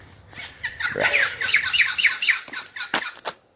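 A flock of birds squawks loudly outdoors on a mild morning, with rapid, overlapping harsh calls repeating in quick bursts, close and dense, and no talking.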